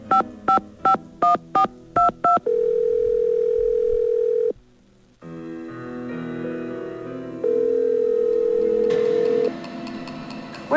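Steady telephone dial tone from a phone in a ticket booth in a Nancy Drew mystery game, preceded by a quick run of touch-tone keypad beeps, with a musical underscore and a second stretch of dial tone later.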